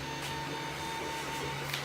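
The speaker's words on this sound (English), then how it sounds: "What is printing now is actually also a part for my own 3D printer" A 3D printer printing a part whirs steadily with a constant motor hum and faint stepper whine, a few soft clicks and movements surfacing over the continuous drone.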